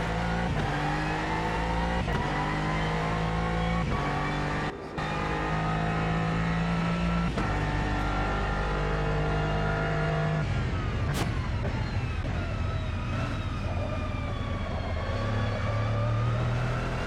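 An Aston Martin GT3 race car in Automobilista 2 at Daytona, its engine loud and continuous as it revs up through the gears, with sharp shift breaks and rising, falling pitch throughout.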